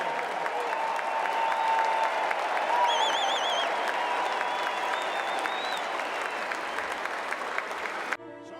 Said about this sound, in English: How about a big round of applause for these highly decorated group of leaders?